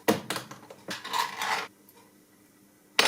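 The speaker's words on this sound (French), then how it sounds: "On prend une casserole." A metal saucepan clatters and clanks in a few quick bursts up close as it is taken out, followed by a pause and one final sharp clang.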